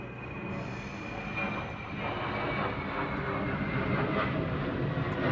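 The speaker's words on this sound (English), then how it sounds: "Sorry for the planes that are going overboard." A propeller airplane passes overhead, its steady droning engine swelling slightly and holding at moderate loudness throughout, with no voices present.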